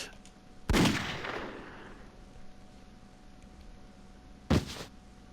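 Two loud, sharp pistol shots in Persona 3 Portable, a few seconds apart, each with a short echoing tail over quiet background ambience.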